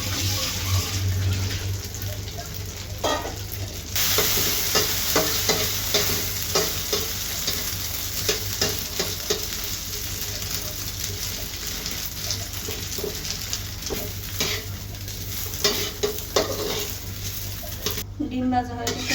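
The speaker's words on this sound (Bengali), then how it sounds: "এবার ডিম ভাজি করে নিব।" An egg fries in oil in a pan, a steady loud sizzle running throughout with occasional stirring clatter.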